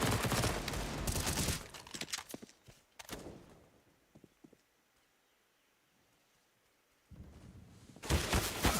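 AK-47 fire in a Counter-Strike match during an esports tournament, heard as loud, dense bursts of rapid shots at the start, a few scattered shots and thuds, a quiet lull, then another heavy burst at the end.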